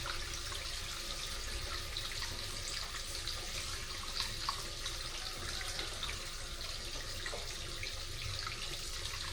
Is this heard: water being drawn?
yes